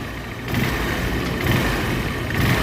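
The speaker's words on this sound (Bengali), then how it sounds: "সাইলেন্সারটা লাগাই দিয়েছি ইঞ্জিনের সাউন্ডটা শুনেন" An old motorcycle engine with its silencer fitted runs steadily up close, a muffled, even drone with slight rises in revs.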